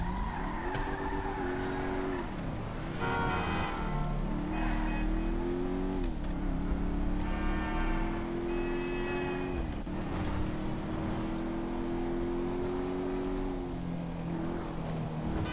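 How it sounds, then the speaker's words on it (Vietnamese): A car engine in the game GTA 5 hums continuously up close, rising in pitch as it accelerates and falling back at each shift, with brief higher-pitched tire or skid noises in between, and no voices. "Ngoài tiếng động cơ ra không nghe tiếng nào hết trơn."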